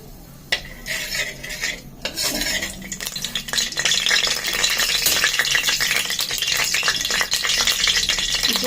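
Oil and mutton fat heating in a hot wok for a ghugni dish, with a steady crackling sizzle building after the first seconds alongside metallic scraping and clinks of a utensil against the pan, no voices.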